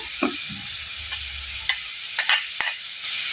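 Ridge gourd and green chilies fry in a pan with a steady broadband sizzle, broken by a few short stirring scrapes and clicks, with no talking.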